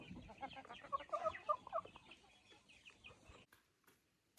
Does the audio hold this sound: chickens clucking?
yes